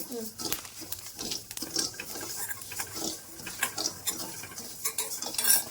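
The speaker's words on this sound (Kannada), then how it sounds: "ಈ ಕಡೆ ಅಕ್ಕಿ ಹುರಿತಾ ಇದ್ದಾರೆ ಅಕ್ಕ" Rice is dry-roasted in a pan while being stirred, producing irregular scraping, rattling and clinking of the utensil against the pan, with people talking over it.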